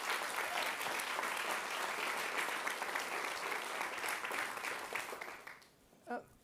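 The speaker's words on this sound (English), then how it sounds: "So a big round of applause to Nigel and Earlonne." An audience at a community media and podcasting event gives a steady, dense round of applause that carries on for several seconds before tapering off into quiet.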